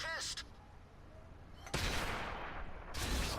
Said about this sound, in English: And then I believe I start shooting at the T-46.